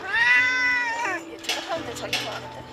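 A cat in a wildfire-ravaged area gives a long, loud, pleading meow close by, followed by softer shorter mews and a person speaking quietly alongside.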